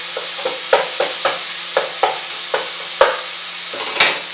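Seasoned ground meat sizzling in a pan while a utensil stirs and breaks it up, with regular scraping strokes roughly every half second over a constant frying hiss.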